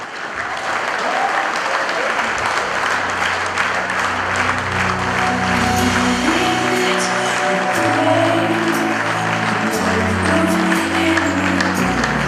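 Sustained audience applause at a celebration welcoming the couple Henri and Alvina into the hall, steady loud clapping lasting the whole stretch with music playing underneath.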